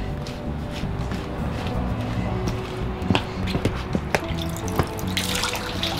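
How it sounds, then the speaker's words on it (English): Water sheds and drips as a filter from an inflatable hot tub is shaken out, a steady splashy trickle with sharp drop impacts growing busier toward the end. "Just shaking all the water out of the filter there."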